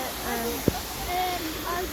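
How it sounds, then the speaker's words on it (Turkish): A small waterfall at Düden Waterfall in Turkey gives a steady, soft broadband rush of falling water, with a brief click partway through and faint voices over it. "Bakın şuradan da küçük bir şelale."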